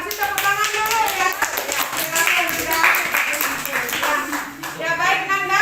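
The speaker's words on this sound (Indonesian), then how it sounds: "Kita kasih tepuk tangan dulu ya." Children clap their hands in class during a practice teaching session, a lively patter of many small claps with some rhythmic bursts, voices and chatter running underneath throughout.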